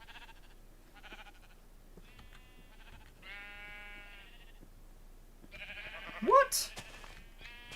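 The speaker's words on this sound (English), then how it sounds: "There's a lot of purple sheep now the babies have grown up." Sheep in Minecraft bleat a few times at a moderate distance, with short pauses between calls. A voice briefly speaks near the end.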